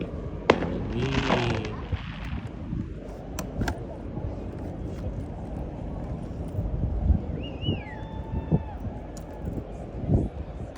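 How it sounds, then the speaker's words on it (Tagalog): Distant fireworks pop and crackle in scattered bursts over steady outdoor crowd noise at a cruise ship departure, with people talking faintly in the background. "Tapos may nagpa-fireworks naman doon."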